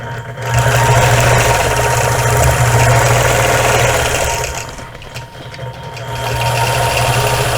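A quilting machine stitches a double wedding ring quilt, stitching in the ditch with a steady, loud mechanical whirr. The whirr dips briefly partway through, then resumes at full pace.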